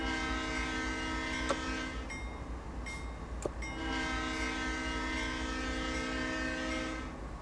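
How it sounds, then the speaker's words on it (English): A Santa Fe diesel locomotive horn in a Cajon Pass train simulator game sounds two long, loud chords separated by a short gap. A steady engine rumble runs underneath, with faint clicks. "They've got good horns."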